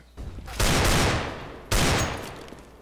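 Two loud, close Desert Eagle pistol shots fired in Counter-Strike: Global Offensive, a sharp blast followed by a long booming tail, then a second identical shot about a second later.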